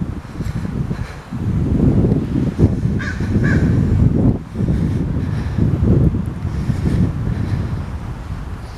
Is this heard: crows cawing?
yes